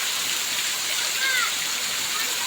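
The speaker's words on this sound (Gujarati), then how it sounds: "તો દોસ્તો અત્યારે વરસાદ પણ ખૂબ આવી રહ્યો છે આ તમે જોઈ શકો છો" Heavy monsoon rain pours down in Deodar, Banaskantha, a steady, close, unbroken hiss that holds at an even level throughout, with no voices over it.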